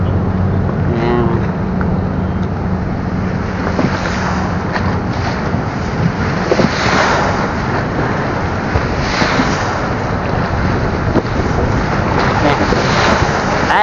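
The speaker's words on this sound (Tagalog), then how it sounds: "Ay, malakas ang alon." Strong sea waves and gusting wind roar steadily and loudly around a fishing boat out on choppy water, a dense, continuous wash of noise throughout.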